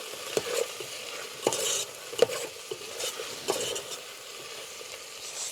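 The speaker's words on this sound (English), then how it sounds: "While it's getting stir fried, I'm going to add the onions." Onions stir-fried in a single pan over an outdoor park fire, with soft sizzling under repeated scraping stirs of a utensil against the pan at a steady rhythm.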